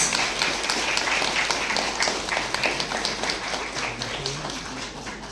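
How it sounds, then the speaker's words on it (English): A crowd claps steadily through an award ceremony, a dense, even patter of many hands that holds at a fairly loud level, easing slightly near the end. "please, with a round of applause"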